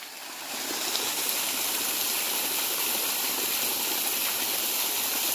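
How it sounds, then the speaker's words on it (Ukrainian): Waterfall in a canyon with a grotto beneath it, a steady, close, full roar of rushing water that swells in over the first second and then holds constant. "Грот під водоспадом такий, як паща лева."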